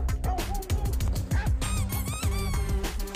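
A rubber duck toy squeaks repeatedly in quick, honking bursts, loud and close, with rustling movement between squeaks.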